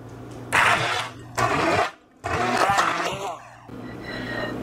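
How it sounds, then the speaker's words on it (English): A small immersion blender whirs through cottage cheese and egg yolks in a bowl, several close bursts of grinding motor noise with brief pauses between them. "I'm just gonna use my little immersion blender."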